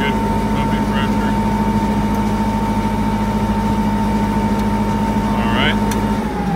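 The engine of a Unit 5100W jet fuel truck runs steadily while pumping fuel, a constant loud droning hum with a tonal whine throughout, with faint voices underneath.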